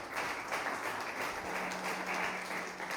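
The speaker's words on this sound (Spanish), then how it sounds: "Ofrenda de palmas al Señor con todo el corazón." A church congregation claps together as an offering to the Lord, a steady wash of applause that holds at an even, moderate level throughout, with a faint low hum beneath.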